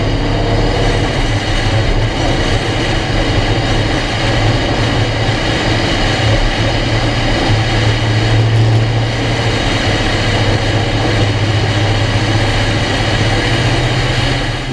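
Race car engine accelerating up the apron onto the track, a loud continuous deep rumble with steady low drone and broadband roar sustained throughout, no voices.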